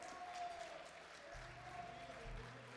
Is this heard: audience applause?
yes